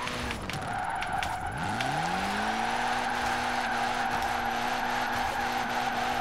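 A car drifts in Forza Horizon 4, engine revving in fifth gear with a long, steady tire squeal and skidding, the engine note dipping and rising again as the slide holds, loud and close throughout.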